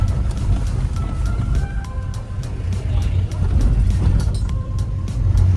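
Steady low rumble of a long line of vehicles queued in traffic on the mountain road toward the Atal Tunnel near Manali, with engines idling and moving close by and occasional faint horn-like tones.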